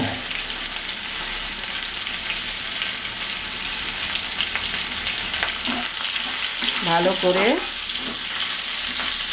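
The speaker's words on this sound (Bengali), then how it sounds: "পেঁয়াজটাকে ভেজে নেব।" Chopped onion fried in oil after panch phoron spices have crackled, a loud continuous sizzle with occasional stirring, and a short spoken phrase partway through.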